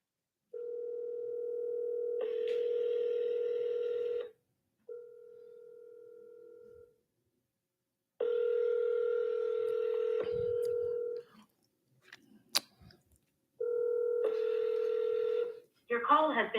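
A phone call redialed after going to voicemail: steady dial and ringback tones sound in several long bursts separated by short gaps, with brief muffled noises in between and a voice at the very end.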